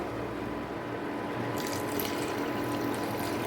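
Water is poured into a pan of egg and red lentil dal, a splashing gush that starts midway through and continues under a steady, fairly faint kitchen background.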